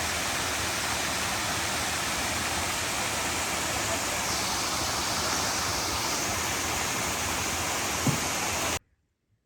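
Greenland Creek Falls roars in a steady, dense rush of falling water, close and loud, until it cuts off abruptly near the end.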